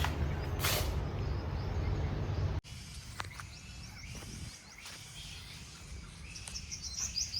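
Bats hanging upside down give high, thin chirps, repeated irregularly over a steady outdoor hiss after a loud burst of broadband noise at the start; no one speaks.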